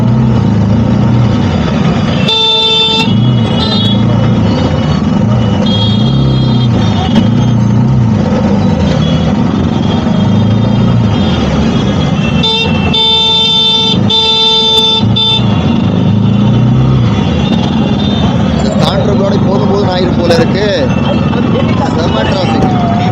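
Dense road traffic on the Purnia to Siliguri route in India, with auto rickshaws and battery autos jamming the road, rumbles steadily while horns honk in repeated short and longer blasts, some close and loud.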